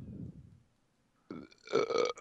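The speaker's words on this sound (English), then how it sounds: "Nice burp." A burp in a podcast studio setting, a low rumbling belch at the start, then a pause and a longer, louder, throaty burp that rises in pitch, heard close to the microphone.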